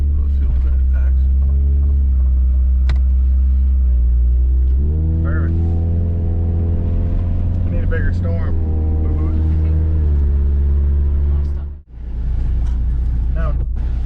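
A 1989 Honda Civic RT4WD wagon engine holds loud, sustained revs near the limiter, stepping up in pitch and bouncing off fuel cut before a brief drop, with a person speaking over it.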